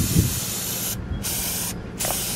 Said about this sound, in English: So we are still spraying the brackets